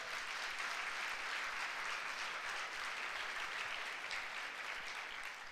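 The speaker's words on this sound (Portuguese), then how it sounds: "Dá um aplauso a Jesus" Church congregation applauding together, a steady, even wash of clapping heard from a distance with almost no voices over it.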